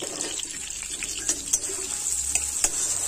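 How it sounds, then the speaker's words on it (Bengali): Chopped onion fried lightly in a pan and stirred over and over, giving a steady wet sizzle with scattered scraping clicks from the spoon, moderately close and with no voices. "পেঁয়াজ নাড়াচাড়া করে ভেজে নিতে হবে"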